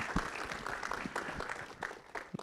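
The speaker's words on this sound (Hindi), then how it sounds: "एक बार बंदा के लिए एक बार जोरदार ताली होनी चाहिए" Applause from an audience at a film trailer launch event, steady clapping with scattered louder claps, moderately loud throughout and without talk.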